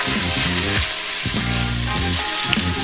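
Bacon sizzles steadily in olive oil in a pan, with a continuous crackling fry broken by intermittent scraping clatter as it is stirred.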